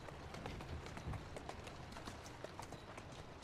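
Horse hooves galloping in the video game Assassin's Creed Syndicate, a quick steady run of hoofbeats over a loud rushing background, with no talking.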